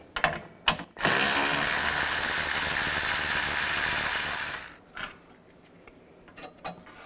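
A ratchet with a 10mm socket removes bolts from the transmission oil cooler of a 2000-13 GMC Yukon: a few brief clicks, then a loud, steady whirring rattle for about four seconds, followed by scattered softer clicks.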